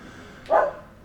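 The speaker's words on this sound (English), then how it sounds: "I think Guffy is barking" A single short dog bark from Guffy at a rural stone barn under renovation in Portugal, moderately loud and slightly distant, standing out against a quiet background.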